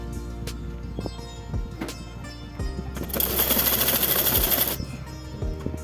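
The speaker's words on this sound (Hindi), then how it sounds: "इस तरीके से हम रख करके कपड़े को बिल्कुल बराबर से सिलाई लगा ले रहे हैं।" A sewing machine stitching salwar cloth along pleats at a half-inch seam, soft intermittent mechanical clatter with low hum, building into a denser, louder whirring run of stitching in the middle before easing off.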